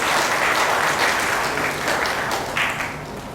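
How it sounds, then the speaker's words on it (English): A large audience at a school's annual prize night applauds students with sustained, dense clapping that holds steady before easing slightly toward the end. "A big round of applause for those students."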